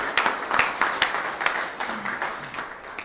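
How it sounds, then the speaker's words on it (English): A modest audience at a touchdown club meeting applauds in a steady patter of many hands, moderately loud and fairly close, fading slightly toward the end. "Let's give a round of applause to all these guys."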